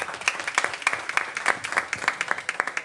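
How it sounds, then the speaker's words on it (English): An audience applauding at a school board meeting after schools are recognized, with a steady run of dense, sharp hand claps that stays fairly even in loudness for the whole stretch and has no talking over it. "Let's give them a round of applause."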